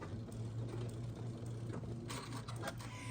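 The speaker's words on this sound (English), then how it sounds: "just sew down, and we're creating a channel. And then I reverse stitch at the end" Steady mechanical whirring and rapid ticking of a longarm quilting machine stitching down a channel and reverse-stitching at the end, faint and continuous with no voices.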